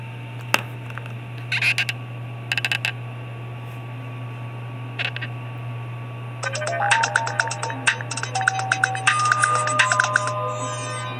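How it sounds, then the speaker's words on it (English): A mobile phone powering on after its battery is inserted gives a few sharp clicks, then a rapid run of bright electronic beeps and chiming tones, all over a steady low hum. "Watch the phone power on."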